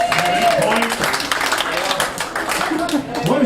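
A comedy show crowd at a tavern applauds and cheers under a comedian's continuing voice, clapping dense at first and then thinning while he talks.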